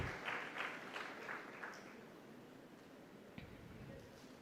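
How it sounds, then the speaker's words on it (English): Audience applause at a conference for a memorandum of understanding exchange, a fairly faint, steady patter of clapping from a moderate distance that holds for several seconds and slowly thins out. "Can we have a huge round of applause for this exchange of MOU?"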